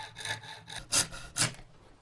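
A handsaw cuts a guitar control cavity cover, most likely from wood. Several close rasping strokes come in quick succession, with two louder, harsher pulls near the end and no talking.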